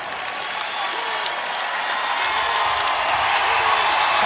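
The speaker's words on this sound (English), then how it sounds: "You can hear this Indiana crowd" Crowd at an Indiana college men's basketball game against Indianapolis, a broad roar of applause and cheering that swells gradually, sustained and dense, with a faint voice underneath.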